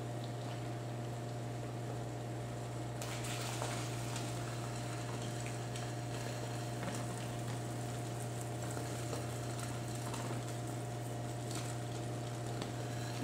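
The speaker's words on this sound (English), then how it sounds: "I also like to scramble up the center just a bit." Omelet eggs being scrambled in a frying pan, a steady low sizzle with faint scraping over a constant hum, close and even throughout with no talking.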